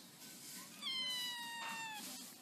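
A kitten meows once, a thin high drawn-out cry heard up close over a faint hiss in a quiet room.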